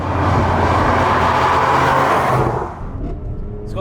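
A Mercedes GLC 43 engine accelerating hard, a loud, close, roaring drone that holds steady for a couple of seconds before easing off and fading into quieter road noise.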